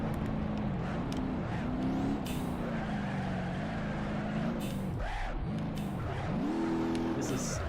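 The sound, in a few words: car driving on rally stage in BeamNG.Drive video game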